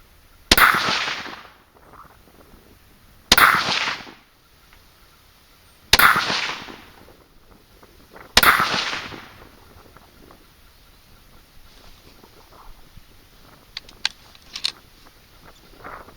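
Four sharp, loud rifle shots from a .223 Savage Axis at a 100-yard range, spaced a few seconds apart, each ending in a brief decaying echo, followed by quiet outdoor ambience and faint clicks.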